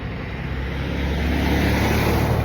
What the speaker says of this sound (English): Now I hear a larger truck like that, and I know it's busy.